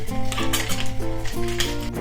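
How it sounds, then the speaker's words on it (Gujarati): A spoon stirring spices such as coriander-cumin powder and chaat masala into a veg burger mixture in a bowl: brief scraping and clinking strokes close up, under background music. "બધું આપણે મિક્સ કરી દઈશું"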